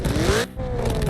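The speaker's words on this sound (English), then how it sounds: "And look at these pops real quick." Roblox Midnight Chasers car revving loudly, then cutting off into a brief crackling lull of exhaust pops before the engine note picks back up, close and alone.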